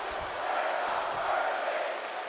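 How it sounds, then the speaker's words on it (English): A crowd in the WWE 2K24 wrestling game roars and cheers steadily, a broad, sustained arena din with a faint commentary voice underneath. "And the crowd loving what they're seeing now."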